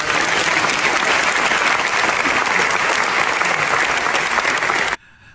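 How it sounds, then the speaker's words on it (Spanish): A studio audience at a Puerto Rico sports talk show breaks into loud, dense applause that holds steady for about five seconds, then cuts off abruptly into near silence. "Fuerte el aplauso."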